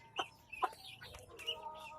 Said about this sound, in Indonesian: Tuh anak ayam.